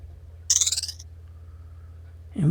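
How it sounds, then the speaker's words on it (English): A bright bird whistle from the Myst game trills out at once, a short chirping burst at mid-clip over a low steady ambient hum, followed by a louder low sound at the very end. "we've got our bird whistle"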